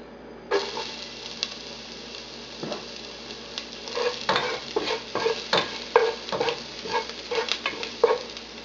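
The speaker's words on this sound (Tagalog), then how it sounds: "Using the same cooking pot with the remaining butter, igigisa lang natin dito yung bawang." Garlic sautéing in melted butter in a cooking pot, with a steady sizzle and repeated scraping stirs of a utensil against the pot, close and fairly loud, growing busier toward the end.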